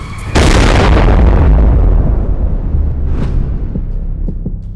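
A massive asteroid striking Earth at tremendous speed: a sudden, loud explosive boom that swells into a long, rolling rumble and slowly fades, with a few faint later pops.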